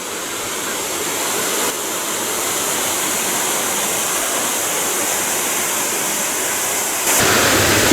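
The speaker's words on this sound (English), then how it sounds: "It seems like there's a lot more water coming down the falls than is going down the creek." Garden Creek Waterfall on Casper Mountain, Wyoming, pours as a steady, dense roar of falling water, close and loud and unbroken, swelling slightly stronger near the end.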